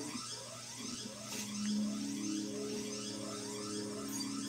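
An alarm rings in the video game High On Life, a steady electronic tone holding under a busy background of game noise, with no clear speech.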